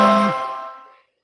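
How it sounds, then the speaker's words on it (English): A phone inside a truck driver's cab gives a single bright chime for an incoming call, ringing out clearly and fading away within about a second. "Someone's calling my phone."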